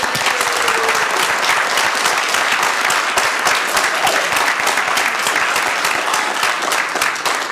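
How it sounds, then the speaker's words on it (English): A room full of adults at a community advisory commission meeting applauds young people, steady dense clapping that holds loud and unbroken throughout. "I want you to give a round of applause to these young people."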